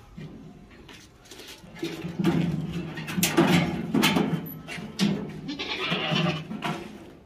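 A tall, long-eared goat bleats repeatedly while it is weighed on a scale at a livestock sale. The calls are close and fairly loud, some drawn-out and wavering.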